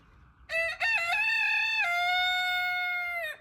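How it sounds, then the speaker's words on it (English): A rooster crows loudly and close by in one long drawn-out call, with a brief cluck-like break near the start. "Sorry, my chickens are really annoying"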